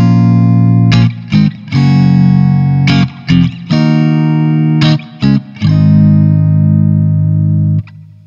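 Distorted electric guitar strumming the chorus chord progression of a song, sustained power-chord style chords with brief choked gaps between changes, loud and alone.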